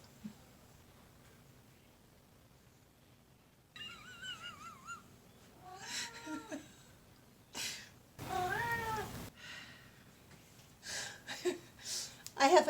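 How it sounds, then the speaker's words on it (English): A lonesome pet cat meows close by, several drawn-out wavering cries at irregular intervals, growing louder and more insistent toward the end with little else around. "I have a very lonesome cat here."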